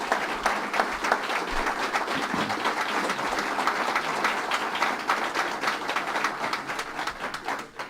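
Dense, steady applause from an audience for Senate Majority Leader Dean Skelos at a law-signing event with Governor Cuomo, sustained loudly for about eight seconds before easing slightly at the end.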